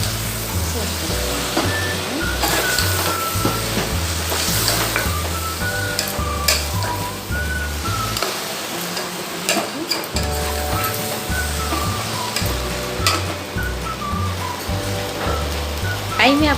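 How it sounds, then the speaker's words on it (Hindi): Fried yardlong beans and potatoes are stirred together in a pan for a Mithila-style curry, giving a loud, continuous sizzle with repeated scraping and clinking of the spoon, while a voice talks over it. "अब सब भुजलका बरबट्टी के एहिमे अब हम डाल देबै। अब एकरा बढ़िया जगह से सबके मिला दै छियै।"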